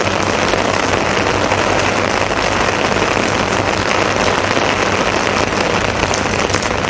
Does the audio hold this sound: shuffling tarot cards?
no